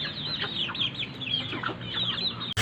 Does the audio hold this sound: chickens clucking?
yes